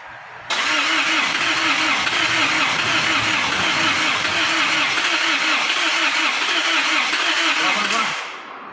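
A 1.9-litre Euro 4 Isuzu All New D-Max cranks hard for about eight seconds without starting, its starter motor churning in a loud, steady, rhythmic chug before cutting off.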